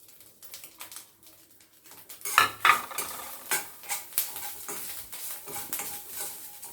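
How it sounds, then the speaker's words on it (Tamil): Grated coconut and curry leaves roasting in a pan, with a utensil scraping and stirring in quick irregular strokes over a faint sizzle, a louder clatter near the middle, then steady stirring to the end. "கொஞ்சமாக தேங்காய், கொஞ்சோண்டு கருவேப்பிலை வறுத்து இதை பொடி பண்ணிக்கலாம்"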